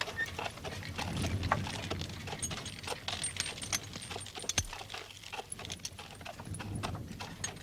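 Horse hooves clip-clop in an uneven rhythm on a hard surface, with light jingling of tack and a faint whinny.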